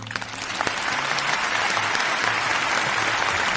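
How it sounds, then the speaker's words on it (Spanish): Applause called for by a Spanish-speaking host during a Wattpad story-reading show. A dense, steady wash of clapping builds quickly and holds loud and even throughout. "Un aplauso, amigos."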